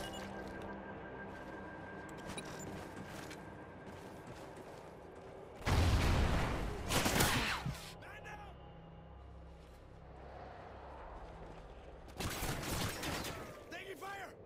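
Gunfire in a first-person squad shooter, two loud bursts of rapid shots around six and twelve seconds over a low ambient game bed, with game voice lines in between.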